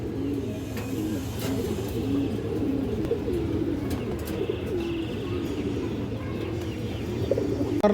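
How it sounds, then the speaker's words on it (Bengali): Pigeons coo steadily in low, throaty repeating calls at a pigeon market selling large hens and colored high-flyer breeds, with faint chirps and a distant car under a continuous background bustle. "বড় সাইজের একটা মাদি কবুতর মাশাআল্লাহ"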